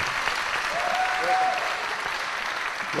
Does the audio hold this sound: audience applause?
yes